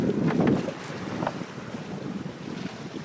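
Strong wind roars across a sailboat on the North Channel in a 20-knot wind warning, with heavy microphone buffeting and rolling waves; a louder gust opens the clip before settling into a steady blustery rush, no voices.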